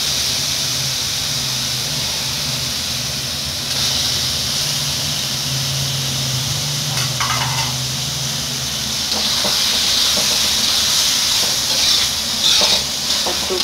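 Squid skin frying in a pan with salt, stock powder and sugar for black squid fried rice, a steady loud hiss and sizzle throughout, brightening toward the end, with a few light scrapes of stirring.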